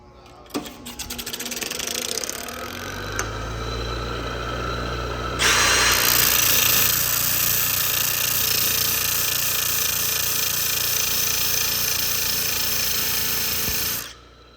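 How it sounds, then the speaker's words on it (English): A power tool fitted with a cut-off wheel grinds the stub of a cut-off bolt to a point: a motor whine runs from the start, then turns into a loud, harsh, steady grind that stops abruptly near the end. "Now I can grind that to a point."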